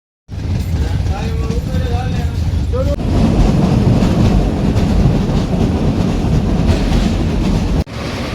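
Passenger train running on rails from Amreli to Dhari in the morning, a loud continuous rumble with clattering wheels heard from inside the carriage, and a brief squeal early on.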